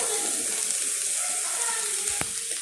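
Water pours steadily from a glass into a pan of meal maker (soya chunk) gravy, with a soft continuous splashing and a faint sizzle underneath, close by.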